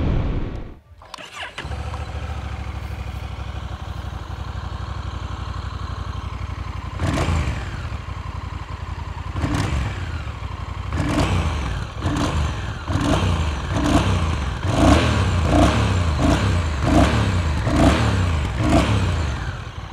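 A Honda Rebel 1100 cruiser motorcycle engine idles steadily, then revs in repeated throttle blips that grow quicker and rhythmic, loud and close throughout.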